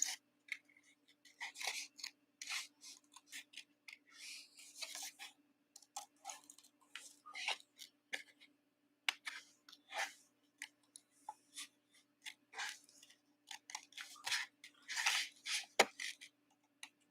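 Scissors snip through a paper craft piece, a quick run of crisp, close cutting strokes in uneven bursts with short pauses, with no talking.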